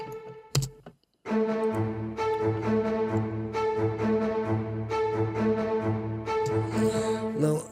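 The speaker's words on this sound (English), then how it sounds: "in this chorus are spiccato strings" Short detached spiccato strings bounce through a simple melody in a medieval-themed cinematic chorus, arranged in FL Studio, with a steady repeated rhythmic pulse that stays loud and continuous after a brief opening hit and pause.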